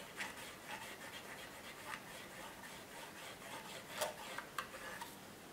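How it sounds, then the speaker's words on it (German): Soft, quiet rubbing and scratching from a cotton swab dampened with isopropyl alcohol scrubbing the contacts of a Nintendo 64 cartridge, in short irregular strokes with a few sharper scrapes, no voices. "Ihr macht ein bisschen von dem Isopropylalkohol auf das Wattestäbchen und reibt damit die Kontakte sauber."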